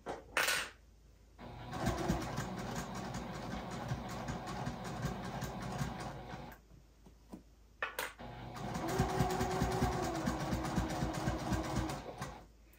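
A sewing machine stitches a pot holder in two long steady runs of fast, even motor hum and needle clatter, close and loud, separated by a short pause with no talking.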